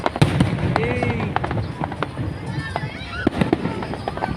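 Fireworks at an independence celebration pop and crackle in rapid irregular bursts, some sharp and close, others distant, with whistling trails and people talking throughout.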